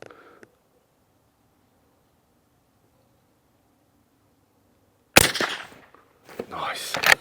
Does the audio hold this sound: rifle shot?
yes